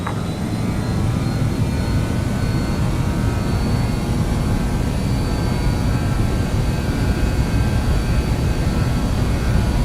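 A BAe 146 airliner's jet engines spool to full takeoff thrust in a flight simulator, a loud, steady broadband roar with a high whine holding at constant level from start to finish, no talk over it.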